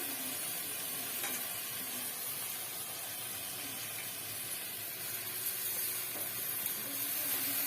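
Garlic frying in a pan makes a soft, continuous sizzling hiss, fairly quiet and even, with no talk over it.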